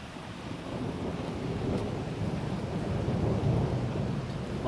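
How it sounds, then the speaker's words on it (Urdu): Thunder rumbles through steady rain during a thunderstorm in Lahore, a continuous broadband wash of heavy rainfall with deep rolling peals and some wind buffeting, loud and close without any talking. "بادل بھی گرج رہے ہیں آج تو لاہور میں"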